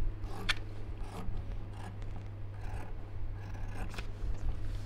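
Scissors cutting through outer fabric and lining for a bag, a few close, soft snipping and scraping strokes spread across several seconds over a steady low electrical hum, with no talk.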